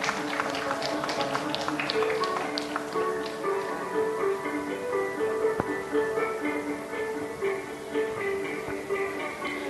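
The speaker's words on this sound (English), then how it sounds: "Give a round of applause." Audience applause at a palliative care workshop, scattered clapping from a modest crowd that is brisk at first and then thins out beneath sustained tonal hum and room noise.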